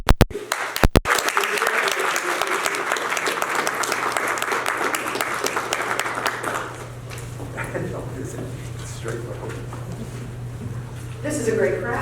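An audience at a congressional briefing on overdose prevention applauds to welcome a congresswoman, dense clapping for several seconds that thins out, then a voice begins speaking over the last of it.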